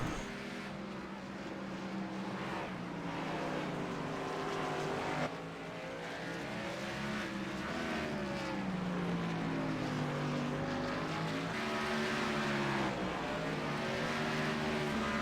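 Race cars at speed on the Sonoma road course, a steady loud engine roar with shifting pitch as two cars run nose to tail, continuous throughout with no talk.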